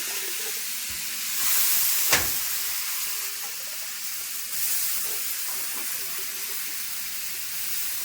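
Potatoes sizzle steadily in hot oil with fried spices, a continuous crackling hiss with a brief louder burst partway through.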